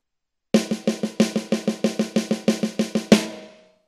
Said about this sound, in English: Now, I'm going to bring both my hands down to the snare and play 16th notes.